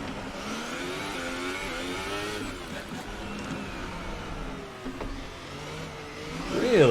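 An F1 2018 racing car engine at Monaco, a steady loud whine that rises and falls with revs, heard alone with no talk.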